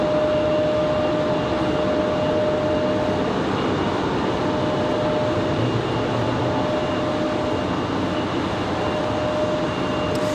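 A Boeing 787 Dreamliner roars steadily at Raleigh-Durham International Airport, a loud, continuous broadband jet rumble with a faint steady whine running the whole time, no voices.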